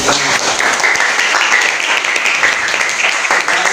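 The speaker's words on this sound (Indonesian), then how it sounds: "Tepuk tangan buat Jen." A class of secondary school students claps for a classmate, a brisk, loud burst of many hands lasting a few seconds with little else audible.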